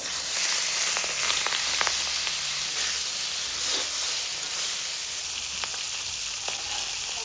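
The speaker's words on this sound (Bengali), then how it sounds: "মাছ ভাজা হতে থাক" Red bhetki fish head frying in hot oil in a kadai, a loud continuous sizzle and hiss close up with occasional sharp spits and crackles throughout, no voices.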